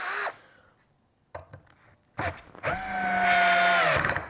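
A Tekiro CD-HD2047 12V cordless hammer drill set to speed 1 drives a long screw: short whirring bursts, then a sustained close motor whine of about two seconds that stops abruptly.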